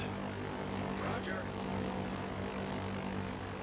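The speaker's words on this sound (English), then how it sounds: "Torpedo planes in the air." Torpedo planes from World of Warships Legends drone overhead with a steady propeller-engine hum, a brief higher whoosh passing midway, over constant game background noise.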